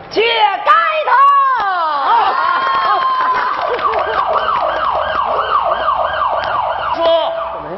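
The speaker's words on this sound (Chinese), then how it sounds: "来辆警车， 警车 这停我们家门口了" A police car siren wails loudly and close in a rural wedding comedy sketch, its rising and falling tone repeating steadily over a low vehicle rumble, with a voice briefly heard near the start.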